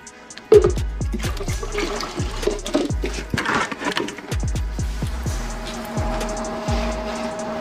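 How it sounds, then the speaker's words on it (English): Water being poured in bulk into a nutrient mix for cannabis plants, a steady splashing, trickling pour with repeated knocks and bumps of containers, close and fairly loud throughout. "Now we gotta add a buttload of water"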